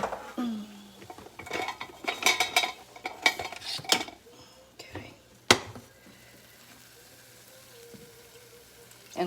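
Large whisk clatters and scrapes against a pot of milk being heated, fast irregular metallic clinks and stirring bursts that fade into quieter sloshing, with faint speech now and then.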